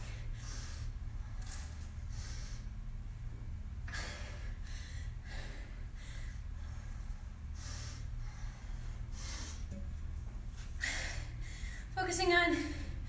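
Heavy breathing after a HIIT workout, repeated sharp breaths and snort-like exhales at an uneven pace over a low steady hum, with a voice speaking now and then.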